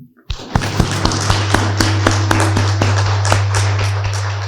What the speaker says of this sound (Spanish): Un aplauso para Guille.